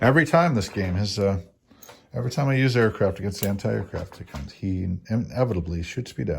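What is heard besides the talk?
No everyday noise stands out behind the speech.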